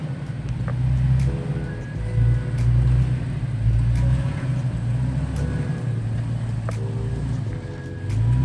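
A vehicle engine on a mountain trip rumbles low and steady nearby, throttle swelling the revs in a few gentle surges, with faint clicks and rattles over the drone.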